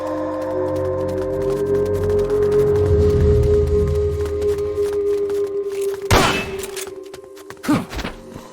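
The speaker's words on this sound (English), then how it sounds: "You hear that? Gunshots!" A sustained electronic hum with game music from Metal Gear Solid: Peace Walker, then a couple of sharp, loud bursts of gunfire, the last one near the end.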